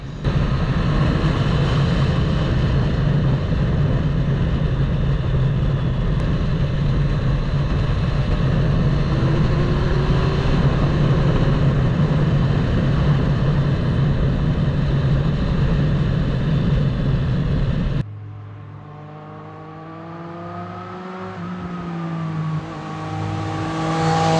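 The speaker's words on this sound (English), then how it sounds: "It's a Euro 5 compliant 3-into-1 exhaust, but it really does sound tuneful, fairly aggressive" A loud 2021 Triumph Street Triple RS engine with a Euro 5 three-into-one exhaust drones steadily for a long stretch, then cuts to a quieter, rising rev with shifting engine pitch.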